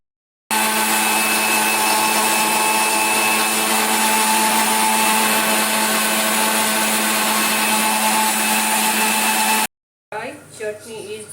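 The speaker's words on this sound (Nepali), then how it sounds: "अब यसलाई मिक्सरमा हालेर गुरुरु पार्नुपर्छ" A mixer grinder grinds chutney of Kashmiri red chilli and sesame with a loud, steady high-pitched whir for about nine seconds, then cuts off abruptly; a voice follows briefly.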